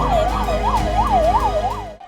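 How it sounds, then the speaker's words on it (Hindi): Ambulance sirens wail in a steady, rising-and-falling cycle as the vehicles rush toward a stampede site at the Mahakumbh 2025 gathering. The sound is loud and close, with a dense roar of road and crowd noise beneath it. "फौरन तमाम एम्बुलेंस घटनास्थल की तरफ दौड़ने लगी"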